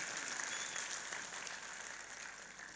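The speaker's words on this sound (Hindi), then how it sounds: "मैं चाहता हूं कि याराने सुखन के लिए जोरदार तालियों से" A mushaira audience in Vadodara claps steadily, a soft, even wash of applause from a crowd with no voices on top.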